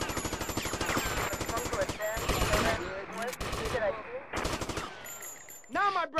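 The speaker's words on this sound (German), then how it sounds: "Die dicke Kanone macht auf jeden Fall schon mal ein bisschen mehr Spaß, was Autos zerlegen angeht" A heavy gun in GTA Vice City fires long rapid bursts at cars, loud and close, broken by short pauses and a few sharper blasts, with a voice speaking briefly between volleys.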